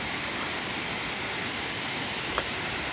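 A waterfall along a hiking trail in Pennsylvania, heard as a constant broadband roar of falling water, fairly loud and close, steady throughout with a tiny click near the end.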